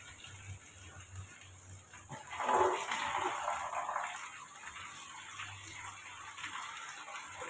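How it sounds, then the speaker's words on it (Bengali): Water is poured into a cooking pan of spiced food, a gushing splash that swells then tapers off over a few seconds amid faint kitchen background noise. "এবারে জল দিয়ে দেবো।"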